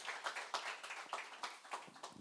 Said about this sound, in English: Can we please have a big, big round of applause for her?